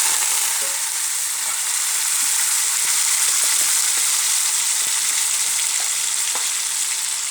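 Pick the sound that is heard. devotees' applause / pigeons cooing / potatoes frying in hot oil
potatoes frying in hot oil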